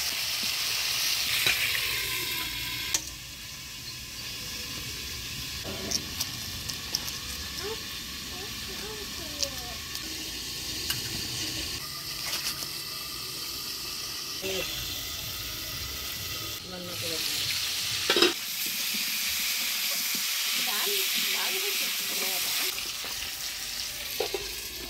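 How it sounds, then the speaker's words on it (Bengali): Potato and cauliflower pieces fry in a covered pan with turmeric and salt, giving a continuous hiss with scattered clinks and stirring scrapes, water running briefly from a tap, and voices in the background at times. "আলু ফুলকপিটা ঢাকা দিয়ে ভাজিয়ে নিলাম"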